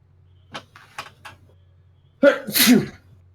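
A single sharp sneeze comes from a player at a Warhammer tabletop roleplaying session. A short gasping intake is followed by a loud explosive burst, heard close, after some faint soft taps.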